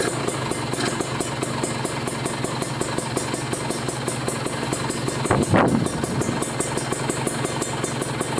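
A motorcycle fitted with an R9 exhaust silencer idles nearby with a steady, pulsing rumble, and one quick throttle blip rises and falls midway.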